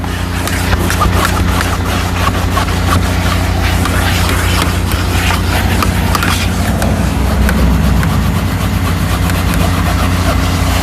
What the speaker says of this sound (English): I'll vacuum